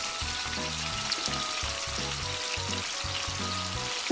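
Chicken fillet frying in hot oil, a constant soft sizzle with a quiet, evenly pulsing rhythm running throughout and a small clatter at the very end.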